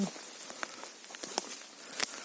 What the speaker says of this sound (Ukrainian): Дощик накрапає помаленьку